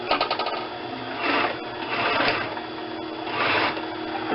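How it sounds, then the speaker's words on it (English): A sewing machine chains off seams, whirring steadily and close with a fast mechanical stitching rhythm that swells in a few brief surges, alone without voices. "I like to chain off when I sew by doing this"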